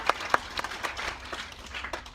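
A brief smattering of hand claps from a small group, a few sharp claps standing out over soft, scattered clapping.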